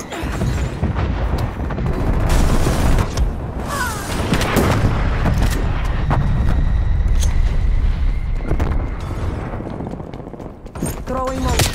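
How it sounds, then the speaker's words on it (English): Strafe run gunfire raining down in Call of Duty: Black Ops Cold War during a Hardpoint match, a dense, loud stretch of booming shots and explosions rolling on continuously, with game voice lines mixed in. "Strafe run incoming on your location."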